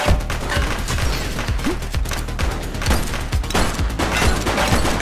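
Rapid bursts of gunfire from the police video game The Precinct crackle throughout, dense overlapping shots forming a sustained loud fusillade with no talk.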